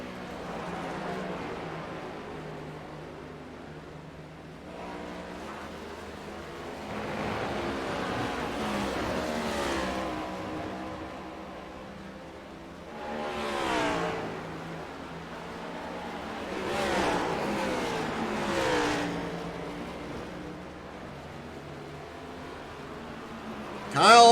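Race cars at The Glen roar past in several rising and falling waves, engines swelling loudly as they approach and fading away, with a commentator talking over the circuit noise.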